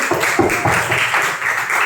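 A class of students claps for a classmate named Cindy in a school lesson on artificial intelligence, a short burst of rhythmic, fairly close applause.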